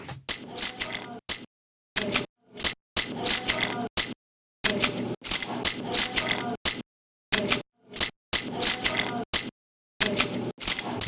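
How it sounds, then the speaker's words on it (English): Keys jingle in a music track, sounding as metallic chinks and rattles in choppy bursts abruptly cut by dead silence between them, as if noise-gated, with faint background chatter underneath. "probably someone taking their keys and like just recording it like that in the studio"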